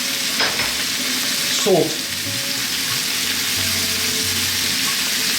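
Vegetable curry with cabbage sizzles and fries in a pan, a steady hiss broken by a few scraping stirs, while a voice briefly speaks.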